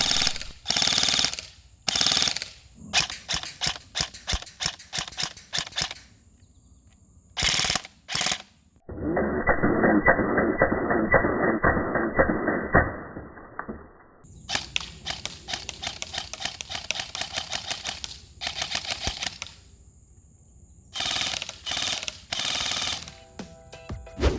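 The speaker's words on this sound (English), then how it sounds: "The gearbox is crisp and clean and just sounds amazing on semi and especially on full auto." An ICS CXP MMR airsoft gun fires crisp mechanical shots, single snaps on semi and rapid rattling bursts on full auto, with a steady whirring stretch in between.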